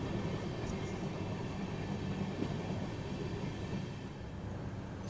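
Mahabodhi Express rolling into Rafiganj station, a steady loud rumble of wheels and carriages with a constant low drone throughout and no voices.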